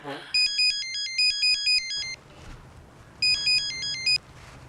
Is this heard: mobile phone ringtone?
yes